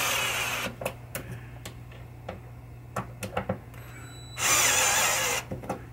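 A power tool loosens screws on the chime box of a 1976 Williams Grand Prix pinball machine, giving sharp irregular clicks and ticks over a steady hum, with a louder whirring burst near the end.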